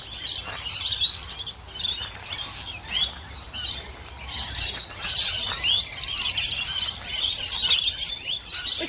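Many birds chirping and squawking together at a bird sanctuary, a dense, loud, continuous chatter of overlapping calls sounding close by with nobody talking.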